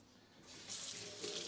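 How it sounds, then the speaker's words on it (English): Tap water runs steadily into a pot at a kitchen sink to cover dried beans, a soft hissing flow that grows slightly louder partway through, with no talking. "And I'm going to add water, just about 2 inches or so above these beans."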